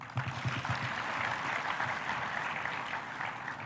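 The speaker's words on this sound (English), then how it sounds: "Please clap for that boy." A school audience claps at a 120th anniversary school event, a steady wash of distant, fairly faint applause filling the clip without a break.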